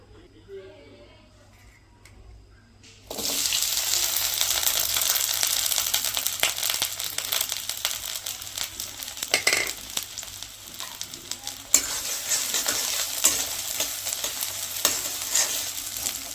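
Chopped onions hit a hot pan and burst into a loud, steady sizzle with scraping stirs, following a quiet start with a voice speaking in a village kitchen.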